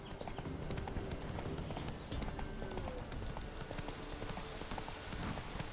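Hooves of a horse clip-clop at a steady galloping rhythm in the Witcher 3 video game, close and continuous for several seconds with a faint neigh, no talking.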